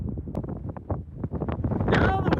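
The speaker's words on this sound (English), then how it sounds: "Now the wind is picking up." Strong wind gusts buffet the microphone outdoors in an open Idaho setting, a loud rumbling roar that swells and builds toward the end, with a voice briefly audible.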